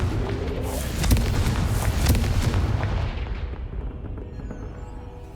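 Blasting-spell explosions from the video game Hogwarts Legacy, a loud, dense run of booming bursts with sharp impacts near 1 and 2 seconds, then a rumbling decay that fades toward the end.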